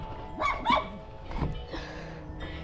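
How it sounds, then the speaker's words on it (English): Dogs bark a few times from some distance away, two quick yaps close together followed by scattered, softer barks outdoors on a hilly site. "Sorry if you can hear the dogs barking over there."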